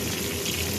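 Tilapia fish frying in oil, a steady close sizzle with a dense crackling hiss that holds evenly through the short moment, with no voices.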